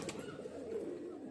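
Pigeons in a loft give a brief, soft coo, low and near, heard alone in quiet surroundings.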